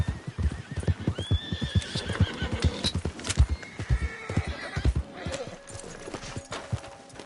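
A horse in the video game Red Dead Redemption 2 whinnies loudly over a run of rhythmic hoof clip-clops, the gallop close and driving throughout with the neigh rising clearly in the middle.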